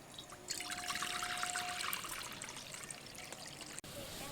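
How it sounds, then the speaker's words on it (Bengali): Water pours into a wok in a home kitchen, an even trickling stream running for about three seconds at moderate volume, ending with a brief clunk. "কড়াইয়ের মধ্যে দিয়ে দেবো জল।"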